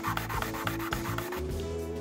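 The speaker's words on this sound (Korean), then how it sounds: "반대쪽도 조금 튀어나오거나 삐뚤빼뚤한 곳은 사포로 살짝만 갈아줄게요." Sandpaper rubs a small wooden knife-sharpening angle guide in quick, steady back-and-forth strokes, a close, dry rasping repeated about eight times over a faint steady hum.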